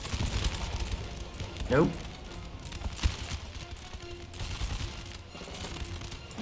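Musket volleys crackle in the Empire: Total War battle, with a few ragged bursts of gunfire over battlefield noise and a voice speaking briefly.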